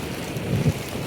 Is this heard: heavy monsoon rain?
yes